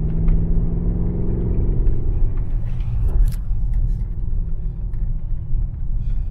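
A Mercedes GLE drives and accelerates gently, a low steady engine rumble with a rising hum that eases off partway, heard from inside the cabin.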